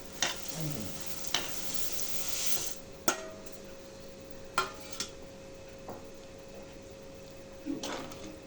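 Boiling salted water bubbles and hisses steadily as vermicelli is added, a utensil clinking against the pot several times, with scraping and stirring sounds in between.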